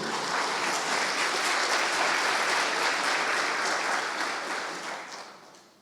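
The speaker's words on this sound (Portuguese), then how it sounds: "Vamos recebê-lo com salva de palmas, irmãos, por favor." A church congregation applauds warmly and steadily for several seconds, the clapping fading out toward the end.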